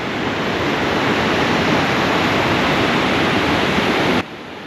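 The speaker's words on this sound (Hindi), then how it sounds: "इस ब्रिज पर खड़े होते ही नीचे बहती कल्प गंगा नदी की गरजती हुई आवाज़ सुनाई देती है" The Kalp Ganga river roars below a small bridge on the way to Kalpeshwar, a steady, loud, broadband rush of fast water that drops off sharply near the end.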